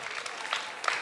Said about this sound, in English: Applaud for Lori Leonard.